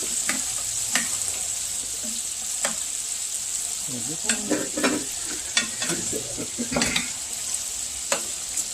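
Prawns sizzle in a hot pan with a bright, constant frying hiss, while scattered clacks and scrapes of utensils mark pieces being turned over close up.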